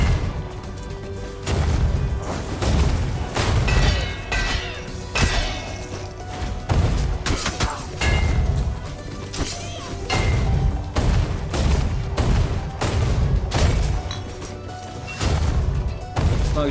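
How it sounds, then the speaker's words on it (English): Repeated booming explosions and heavy thuds from the video game Rogue Legacy 2, a shockwave ability blasting over and over in loud bursts against a dense game soundtrack. "As long as you don't mind hearing the sound of an explosion every 2 minutes."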